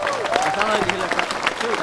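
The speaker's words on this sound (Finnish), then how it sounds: "Janne voi antaa aplodit." A live concert audience applauds the pianist at a Finnish pop gig, moderate clapping running throughout, with a sung or spoken voice and some tonal sounds mixed over the clapping.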